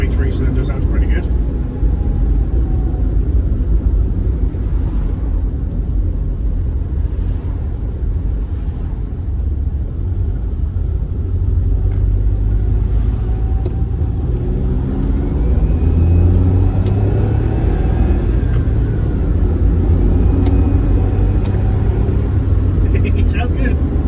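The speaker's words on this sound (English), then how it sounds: "Probably 3-cylinder sounds pretty good." A Smart car's three-cylinder engine drives along with a loud, rumbling drone and changing pitch through slow gear shifts. Road and cabin noise sit under it, and people talk over it.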